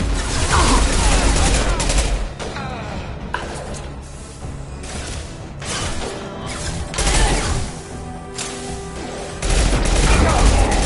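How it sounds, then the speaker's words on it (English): Impact shot gunfire in the Mass Effect 2 video game, loud dense bursts of rapid shots and mechanical clatter in several waves, with brief quieter gaps between volleys and game voices mixed in. "Firing an impact shot."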